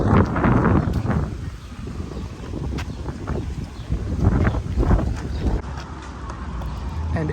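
Steady low rumbling buffeting of outdoor wind hitting the microphone fills the whole stretch, loud and close, with gusty swells around the middle.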